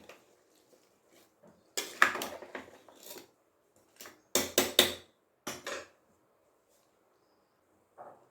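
Ground masala being stirred into a vegetable kurma pot, heard as scattered bursts of metal spoon scraping and clattering against the pot, separated by quiet pauses.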